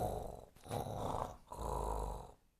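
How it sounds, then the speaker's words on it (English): A cartoon pig, George from Peppa Pig, snores in three slow, soft rasping breaths with short pauses between them. "George begins to snore."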